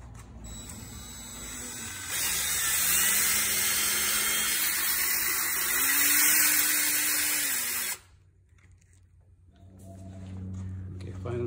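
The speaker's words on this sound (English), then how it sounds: "we put it onto the surface and we're going to polish it. Using this brush." Power brush polishing a car headlight during restoration: a whining motor hum with a shifting pitch runs about six seconds, then cuts off, leaving quiet background.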